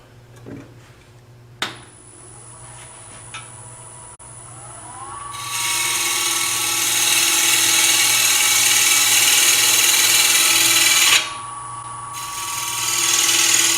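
A spinning lathe hums, then a loud abrasive rasp of sanding against a turning wooden bowl lid runs for several seconds, breaks briefly, and starts again.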